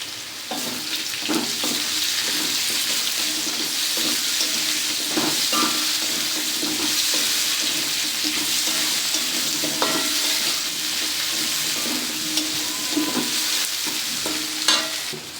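Chopped onions sizzle steadily in hot oil in a village kitchen pan alongside potatoes with turmeric, with a spoon scraping and stirring through them in repeated close clinks and scrapes over a continuous frying hiss.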